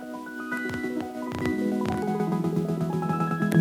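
Elektron Analog Four analog synthesizer playing layered sustained tones with feedback, sharp bright transients stabbing through a dense droning bed, loud and continuous with no talking.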